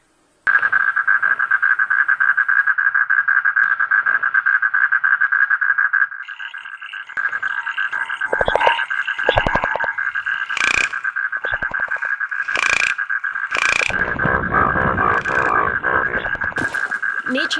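Frogs and toads croak in a loud, continuous trilling chorus, later joined by sharp repeated calls and rapid pulsing croaks, all close and dense with no talking.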